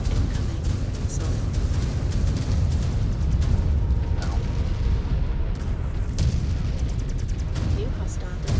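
An incoming missile exploding in the mech combat game Mechwarrior 5: Clans, heard as dense, loud, rumbling blasts and booms that run continuously under a talking voice.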